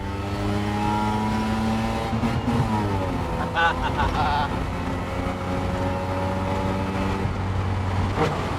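A car engine hums steadily up close, its tone climbing and shifting as it pulls away and accelerates, with people talking over it throughout.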